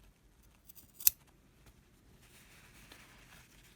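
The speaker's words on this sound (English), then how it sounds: "We're going to snip this so that when it's flipped, it's going to be laying flat." Scissors make one crisp, close snip into the fabric corner of a handmade glove, with a few faint handling rustles before and after in an otherwise quiet room.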